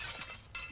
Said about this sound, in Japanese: あ、窓ガラス割れちゃった